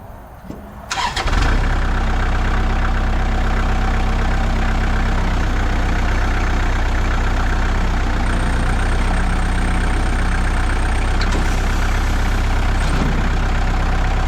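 A 2002 Kubota MX5000 tractor engine, already warmed up, cranks and catches, then settles into a loud, steady diesel idle that runs on unchanged, close to the listener.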